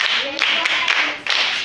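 A class of students at a maths bootcamp claps for a classmate who has just finished answering, with a short burst of scattered hand claps rising and falling over about two seconds, close by in a room.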